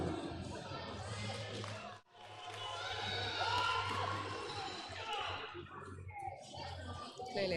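A crowd at a junior powerlifting meet cheers and whoops for a lifter attempting a heavy squat, the shouting swelling loud and sustained in a hall while a commentator talks over it.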